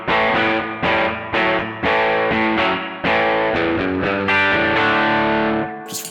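A clean electric guitar played through a TC Electronic Arena spring reverb pedal strums a loud series of chords, each attack trailing into a reverb wash before a final decay.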